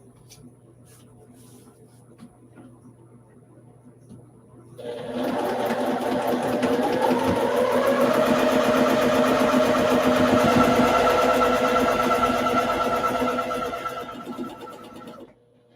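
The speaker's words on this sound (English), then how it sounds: "we're going to sew these into cute little 4 patches." A sewing machine stitching fabric for four-patch quilt blocks runs as a steady, close, fast mechanical whir for about ten seconds before stopping, following a quieter stretch of low background hum.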